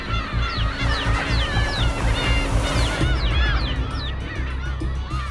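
Black-tailed gulls on a breeding island call aggressively in a dense, continuous chorus of harsh, overlapping squawks and yelps, loud and close throughout over a steady low rumble of wind or surf.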